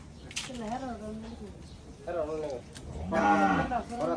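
A cow that cannot walk because of trouble in two legs moos several times, the long, drawn-out calls fairly close and growing louder toward the end, with farmyard background noise between them.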